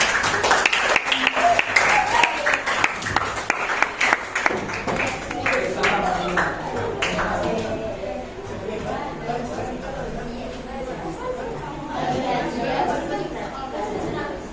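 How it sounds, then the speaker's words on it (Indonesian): Children in a classroom clap for a classmate about to present, a burst of brisk, scattered hand claps at first that thins into chatter and murmuring voices. "Tepuk tangan untuk Akbar"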